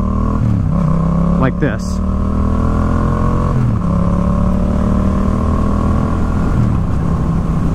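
A Yamaha FZ-07 motorcycle engine runs steadily around 5000 rpm, loud and close, with a brief rise and dip in pitch while a voice speaks over it.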